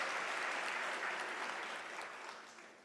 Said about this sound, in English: Can you give an applause to us?